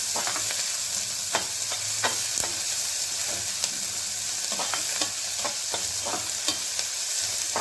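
Onions fry in a pan for eggplant bartha, giving a continuous bright sizzle broken by frequent scraping strokes of a spatula stirring them, close and steady with no talking.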